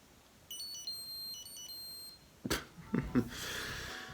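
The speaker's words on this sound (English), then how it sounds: "It will actually have a couple of ringtones that will play through the built-in speaker, such as Checkmate." The built-in speaker of an original iPod Touch plays the Checkmate alarm ringtone, a short run of bright repeating electronic beeps, followed by a burst of louder handling noise.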